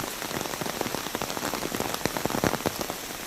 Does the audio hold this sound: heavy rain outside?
yes